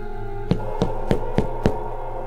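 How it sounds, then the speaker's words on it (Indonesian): Five distinct knocks on a door land at an even pace, each a sharp thud over a steady background hum. "Ketukan pintu menggema hingga ruangan dapur di mana Saras sedang menangis terseduh."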